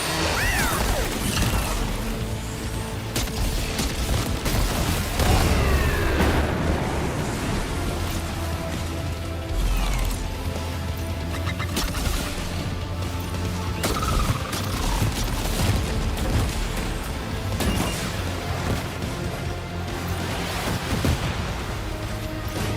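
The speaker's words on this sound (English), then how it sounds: "Need the rocket launcher here." Rocket launcher fire during a fight in the game Death Stranding 2, dense crashing blasts and rapid impacts over a constant noisy din, with whooshes and metallic clanks, loud and near throughout.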